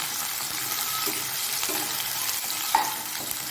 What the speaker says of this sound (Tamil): இப்போது வெங்காயம் வந்து நல்லா வதங்கட்டும்